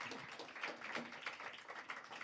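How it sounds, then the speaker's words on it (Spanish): A church congregation applauding, a steady patter of many hands clapping together, fairly faint and continuous throughout. "Yo te propongo que le demos un aplauso al Señor."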